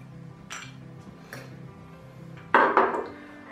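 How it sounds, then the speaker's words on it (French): Crushed soap nuts are dropped into a bowl for a homemade moringa shampoo, giving a few light taps followed by a louder rattling clatter near the end. "Donc je viens mettre un petit peu de noix de lavage que j'ai préalablement écrasée"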